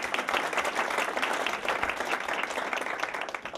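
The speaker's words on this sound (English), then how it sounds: "Let's give them all a round of applause, please." Attendees at a Florida Chamber of Commerce annual meeting give the panelists a round of applause, dense sustained clapping from a large room filling the whole stretch at an even level.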